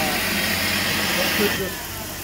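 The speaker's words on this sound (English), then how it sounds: "you were hearing that vacuum pump" The auxiliary vacuum pump on a Mercedes C300 runs with its hose disconnected and the intake removed, a steady, close mechanical hum with a dense buzzing texture that eases slightly near the end.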